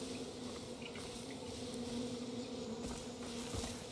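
Bees buzzing in the game Far Cry New Dawn, a continuous low drone that hums steadily and faintly throughout, with no speech.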